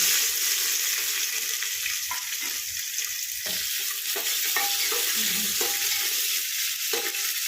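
Onion frying with cumin and spices for egg rice, a constant bright sizzle with intermittent spatula scrapes and stirring knocks, close and steady.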